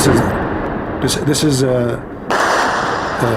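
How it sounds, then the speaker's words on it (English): War footage with gunfire and missile fire plays back loudly as a dense, continuous barrage of shots and blasts, while someone talks over it throughout. "Let me lower a little bit the sound of shooting"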